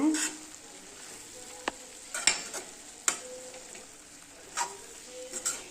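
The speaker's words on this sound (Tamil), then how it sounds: "நல்லா கிண்டிக்கலாங்க" Small spinach greens being stir-fried in a pan hiss softly and steadily, broken by a few sharp clicks and taps of a spoon against the pan as they are stirred, with no one talking.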